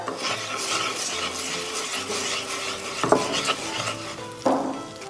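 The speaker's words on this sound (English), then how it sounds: "Then add your rice after adding the turmeric and stir." A utensil stirs turmeric-coated rice with onion and ginger in an oily pan, scraping and shuffling against the metal over a soft sizzle, with a couple of louder knocks of the spoon on the pan.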